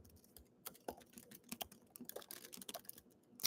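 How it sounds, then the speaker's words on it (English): Quick, irregular clicks of a computer keyboard being typed on, soft and close, with brief pauses between bursts of keystrokes and no talk. "I'm just typing that in"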